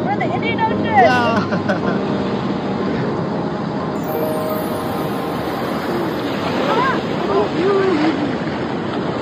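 Surf from the Indian Ocean at Pandawa Beach, Bali, forms a steady broad wash with wind buffeting the microphone, while people talk and whistle-like tones rise faintly over it.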